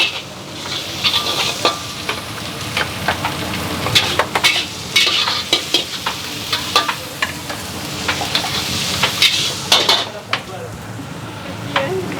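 Nasi goreng kampung stir-fried in a wok at a busy food stall, with steady sizzling and repeated sharp clanks of a metal spatula against the pan, ongoing throughout with faint background voices.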